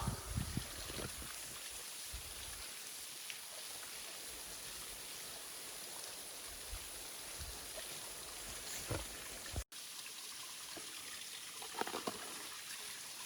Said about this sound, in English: I think they should go right in the waterfall.